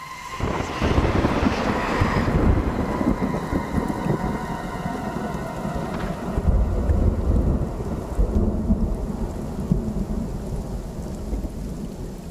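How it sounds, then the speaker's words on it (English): A night rainstorm patters steadily against window panes while rolling thunder rumbles through it, swelling loud around the middle and then easing off. "Raindrops weaved a delicate symphony against the window panes."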